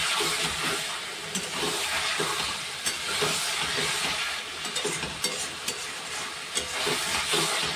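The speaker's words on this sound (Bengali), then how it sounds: "একটু কষে নেব।" Curd chicken sizzles and fries steadily in a pan, a loud continuous hiss broken by scraping strokes as it is stirred.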